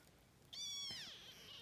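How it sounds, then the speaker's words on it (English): A kitten gives a single close, quiet meow, rising and then falling, in an otherwise still room. "my kitten just woke up, so I'll show you guys right now because she's climbing all over me and crying"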